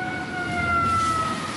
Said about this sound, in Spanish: ¿Oyes las sirenas?